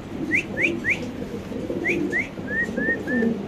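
Danish pigeons at a large pigeon farm give short, rising whistled calls in quick runs of two or three, close and clear over a soft, low murmur of other birds.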